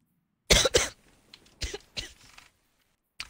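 A person coughs hard and chokes up, two sharp loud coughs followed by a pair of smaller hacking coughs, then a pause and one more cough close to the microphone.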